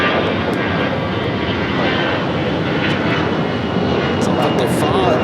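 An Airbus A330 cargo plane takes off at LAX, its engines producing a loud, steady broadband roar that holds for the whole stretch, with faint radio chatter in the background.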